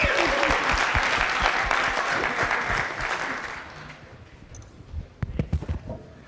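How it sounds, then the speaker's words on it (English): Audience applause fills a conference hall after a speaker is introduced at a talk on building Docker images, a dense burst of clapping that fades out over a few seconds, leaving a few scattered claps and faint room noise. "Some applause, please."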